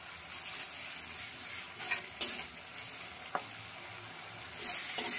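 Spice masala for a raw green banana curry sizzling in oil in a pan, a continuous bright hiss broken by a few quick scrapes and stirring knocks, close and alone without talk.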